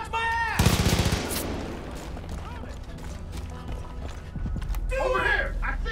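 Gunfire in the Far Cry 5 video game: loud rapid shots and bursts around a busy mix of game sounds, with voices shouting over the action.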